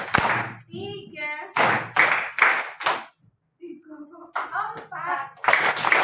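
A group claps hands in a counted rhythm, bursts of sharp claps alternating with voices chanting the count aloud, fairly close and loud.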